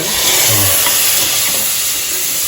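Cardamom, cloves, cinnamon, ginger, green chili, gooseberry and chickpeas frying in a pan, a loud, steady hissing sizzle with a faint stirring scrape, close and continuous, no one speaking.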